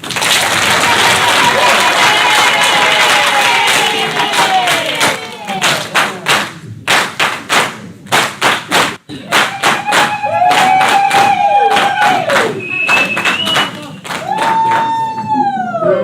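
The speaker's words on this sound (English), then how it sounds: "Can clap hands for him." At a 2021 inauguration ceremony, an audience claps to welcome the mayor. Loud applause comes in rhythmic bursts and waves, mixed with high cheering and ululating voices.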